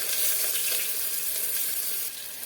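Onions hit hot oil in a pan, giving a loud, even hiss and crackle that carries on steadily and eases slightly at the end, with no voices.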